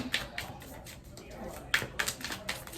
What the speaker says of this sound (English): So I'm gonna do some more shuffling